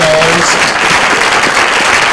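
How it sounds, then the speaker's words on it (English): Loud, close applause and clapping from a workshop audience for the prototypers and storytellers of an open design challenge, a continuous dense wash of claps lasting a couple of seconds. "Round of applause for our prototypers, our storytellers, the folks that played the scissors."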